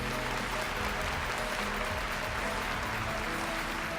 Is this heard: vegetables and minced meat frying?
no